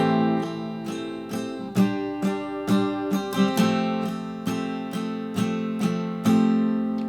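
Acoustic guitar strums a song intro in 4/4, with bright, ringing chords and crisp, evenly spaced strokes played alone at close range.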